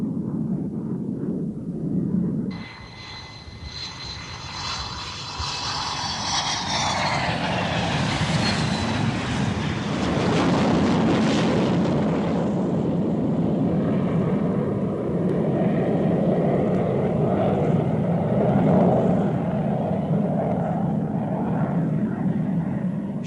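The McAir 71-0280 jet lands on its first flight with an F-4 chase plane following, giving a loud, sustained roar of engines that swells into a broad rushing whine and stays heavy throughout.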